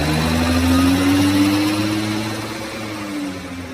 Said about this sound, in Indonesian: mesin motor Vario itu menderu kencang